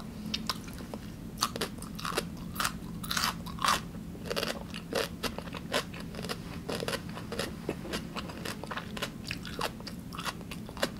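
Someone close by eats black bean noodles with altari radish kimchi, the kimchi giving loud, crisp crunching bites over steady wet chewing, with no talking.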